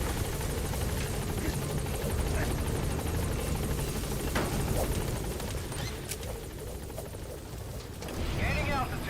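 A helicopter in Metal Gear Solid V touching down at a landing zone, its rotor drone loud and steady throughout, easing slightly before a final swell, with in-game radio chatter mixed in.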